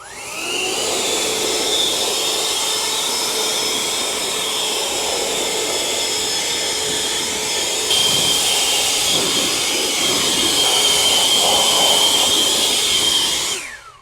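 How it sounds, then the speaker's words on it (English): An air blower roars continuously at close range while drying a car tire and wheel, a loud steady rushing hiss that shifts slightly in pitch partway through and cuts off at the end. "you just saw me use the air blower"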